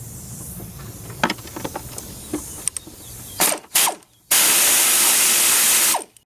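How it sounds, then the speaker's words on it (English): Ratchet and tool work on the 10mm bolts of an upper timing cover on a Toyota V6: scattered clicks and clanks, two short bursts, then a long steady spraying hiss that cuts off near the end. "Next I'm going to remove the 5 10mm bolts that hold the upper timing cover on"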